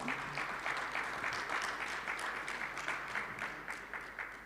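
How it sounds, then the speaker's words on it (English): An audience at an awards ceremony claps steadily throughout, a moderate, even round of applause heard without voices. "Shall we put our hands together again for the Custos?"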